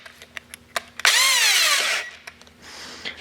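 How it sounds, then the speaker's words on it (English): A power drill with a 1/4 inch bit whines up and bores steadily for about a second, its pitch sagging under load, between light clicks and handling noises. "we are going to use a 1/4 inch drill bit to get the holes"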